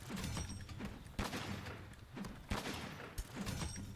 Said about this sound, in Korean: 이런 식으로 올려치고 쏘고 올려치고 쏘고 모으고 다시 올려치고 쏘고